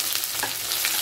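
Onion tipped into hot oil in a pan of cumin-tempered oil, giving a dense, loud, continuous sizzle close by for about a second.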